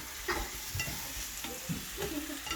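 Apple pancakes frying in sugary syrup in a pan, a steady close sizzle with soft intermittent stirring and scraping as they are kept moving.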